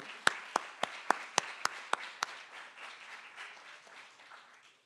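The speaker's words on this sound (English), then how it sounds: "Clap it up one time." At a commencement ceremony, about eight sharp, evenly spaced claps ring out close by over a thinner patter of audience applause, then the clapping tapers off and fades away.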